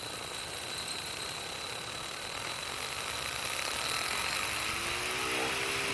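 A small 5-volt electric motor spins a cutter blade, giving a steady, continuous whine with high tonal lines that rise slightly as it comes up to speed, running alone at close range.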